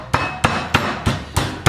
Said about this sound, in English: just taking a tenderising hammer, you're just giving it a little bit of a bash